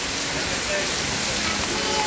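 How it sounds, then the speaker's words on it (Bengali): Heavy rain pours down in Bangladesh, a dense, even roar of water with no breaks, loud and close. "দেখেন ভিউয়ার্স কি পরিমাণে বৃষ্টি হচ্ছে"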